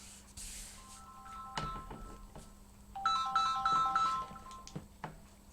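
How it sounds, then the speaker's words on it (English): A mobile phone ringtone goes off indoors during journal-making, a short melodic electronic chime sequence with bright repeating tones, moderately loud, alongside faint handling clicks and rustles, no speech. "that was my phone going off"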